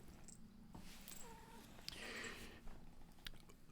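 A cat close by makes soft, brief meowing sounds against a quiet background rustle.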